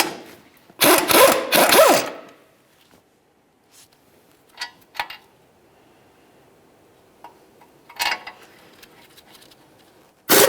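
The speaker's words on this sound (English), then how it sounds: "Use a 21mm to remove your 2 caliper bracket bolts." Ratchet and 21mm socket working the caliper bracket bolts loose on the front brakes of a 2013-2015 Chevrolet Malibu, a dense burst of rapid clicking ratchet noise early on, then scattered metallic taps and clinks in a quiet garage.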